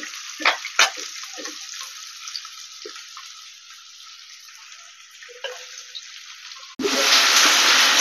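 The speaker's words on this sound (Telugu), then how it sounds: "తరిగి పెట్టుకున్న ఉల్లిపాయ పచ్చిమిరపకాయ ముక్కలు వేసుకుంటున్నాం." Chopped onion and green chillies hit hot oil for an aloo chicken gravy curry. Light clinks and a quiet hiss come first, then a loud, steady sizzle erupts near the end and continues.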